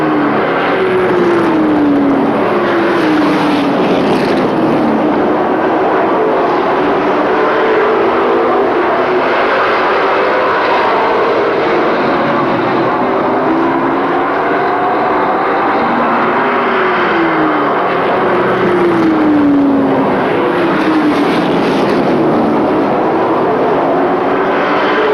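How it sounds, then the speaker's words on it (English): Pro racing trucks lapping an oval race track, a continuous loud engine drone with pitch sweeps as trucks pass, layered over steady crowd and track noise for the whole stretch. "Truck of Thomas Carter now really smooth coming out of turn number 2 and headed down the backstretch."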